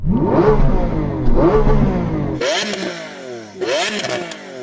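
Lamborghini Aventador SV with its V12 engine blipped repeatedly: sharp rising revs that drop back, first two deep throaty pulls, then two higher, crackling rev bursts, all loud and near.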